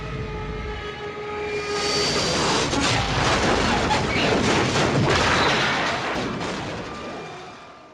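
A plane taking off from Taihoku in 1945, a loud, broad engine roar that swells over several seconds, holds steady, then starts to fade.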